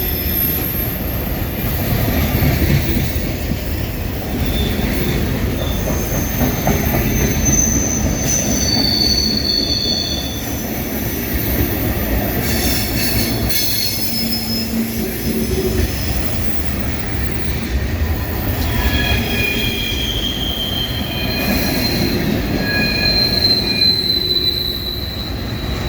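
A CSX manifest freight train led by an EMD GP40-2 rolls past, its wheels squealing in high, sustained screeches over a steady, loud rumble of rail cars throughout, with no talk.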